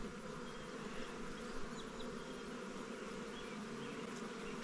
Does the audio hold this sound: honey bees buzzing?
yes